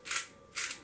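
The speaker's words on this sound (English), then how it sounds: "I'm going to grind a bunch of pepper in there" A pepper grinder cracks peppercorns over cooked green beans in two short gritty bursts, close and fairly quiet, with no voices.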